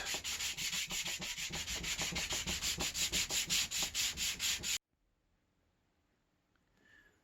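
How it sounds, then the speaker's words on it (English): Steady back-and-forth rubbing strokes of a sanding stick on wood, close and rhythmic, stopping abruptly into near silence. "I'm going to use my little sanding stick and just go along the top."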